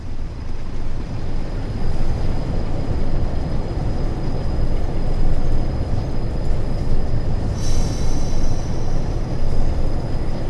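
Train rolling steadily in Train Sim World 5 on the West Coast Main Line between Preston and Carlisle, a continuous loud rumble of wheels and motors with a brief high squeal near the end.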